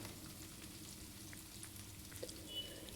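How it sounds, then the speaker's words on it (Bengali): Ginger paste and spices frying in oil give a soft, steady sizzle with faint crackles, quiet and close, with no talking. "সব কিছুকে খুব ভালো করে তেলের সাথে একটু ভেজে নিব।"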